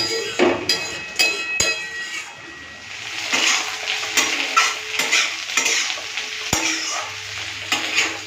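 Rohu fish curry cooks in a pan after water is added, with a busy bubbling sizzle overlaid by repeated spatula scrapes and metal clinks against the pan, loud and close throughout.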